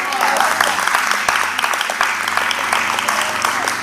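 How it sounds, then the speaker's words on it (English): A church congregation claps their hands in praise, with dense, continuous clapping throughout, mixed with voices and some musical tone underneath. "Somebody clap your hands and give God a praise."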